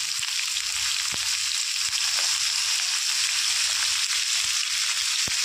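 Potatoes and pointed gourd fry with turmeric in a pan, giving a steady, close hiss of frying throughout, broken by a few sharp clicks and pops. No one speaks.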